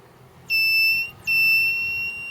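A satellite finder meter used while aligning a dish emits a high, steady electronic tone in two long beeps separated by a brief gap, loud over faint background hiss.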